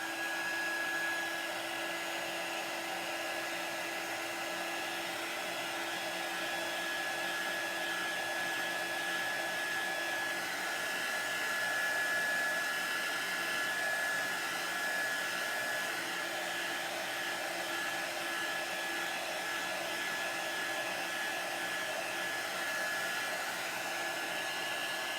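Hair dryer blowing steadily on chalk paste drying over a small snowman craft piece, a continuous close whoosh with a faint high whine, alone and unbroken throughout.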